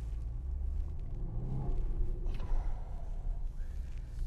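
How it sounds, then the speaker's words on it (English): A 900 hp 2021 Mercedes-AMG GT63 with its exhaust valves open gives a steady low rumble from inside the moving car, a broad continuous drone with a slight swell midway. "I got the exhaust open. I just want to hear the exhaust."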